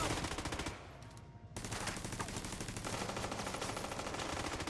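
A deployed turret in The Division 2 fires steady, rapid automatic bursts up close. The fire pauses briefly near the start, then resumes as continuous rattling.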